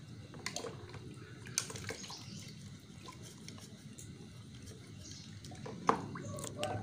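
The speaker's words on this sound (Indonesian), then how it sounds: "Kita cuci, kita gosok-gosok lagi." A drinking glass is washed and scrubbed under water, with quiet splashing, drips and occasional clinks and scrapes, close by and faint.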